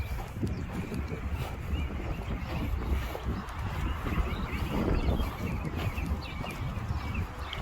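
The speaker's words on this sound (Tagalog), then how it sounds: "It's kind of windy." Wind gusting through an outdoor park, a steady rough low-frequency rumble buffeting close by for the whole stretch, with faint scattered movement sounds mixed in.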